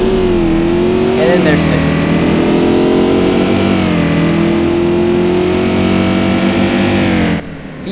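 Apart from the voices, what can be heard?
V8 engine of a Holden HSV Maloo accelerating, from a video game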